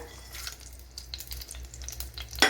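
Whole spices (fennel seeds, cinnamon, star anise, bay leaf, cloves and cardamom) fry in a pan for egg masala. A close, crackling sizzle with faint stirring scrapes sits over a low hum, ending in a brighter burst of spitting.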